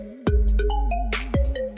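A mobile phone ringtone sounding up close, a loud chirpy electronic melody of quick stepped tones with a couple of sharp percussive hits.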